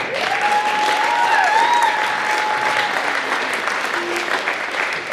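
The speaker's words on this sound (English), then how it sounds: "Let's give them a round of applause" A school spring concert audience applauds middle school students who played in orchestra, band and choir, a steady, dense wash of clapping sustained throughout, with faint whistles or voices in the crowd.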